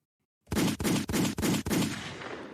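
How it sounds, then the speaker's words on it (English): A rapid burst of about five gunshots in quick succession, loud and close, trailing into a fading echo after sudden silence. "So he gets about 6 gunshots?"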